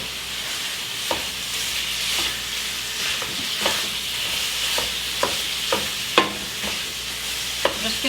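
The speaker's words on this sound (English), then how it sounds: "I'm just going to break the meat up as I brown it" Ground meat browns in a pan, a continuous close sizzle broken by repeated utensil taps and scrapes as it is broken apart, no voices.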